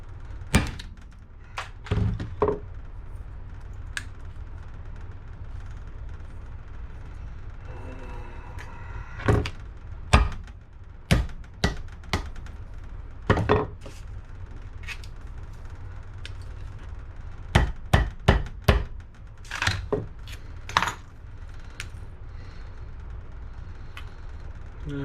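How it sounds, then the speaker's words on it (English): A series of sharp metallic knocks and thuds as a hammer strikes a small laser pointer, irregular and close, in scattered bursts with pauses between, over a low background hum. "Let's open it with a hammer."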